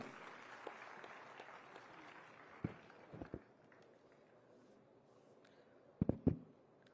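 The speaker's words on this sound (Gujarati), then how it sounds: "જોરદાર તાળીઓની ગુંજ સાથે" Applause from an audience at a Gujarat government event in Gandhinagar with a minister present, heard as a spread of scattered claps and a few sharper bursts against a low room murmur.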